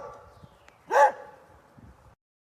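A dog gives one sharp, whining bark-yelp in a quiet room, followed by faint soft whimpers before the sound cuts off.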